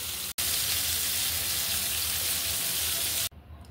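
Pointed gourd frying in a pan, a dense continuous close sizzle that cuts out briefly at the start and drops away near the end.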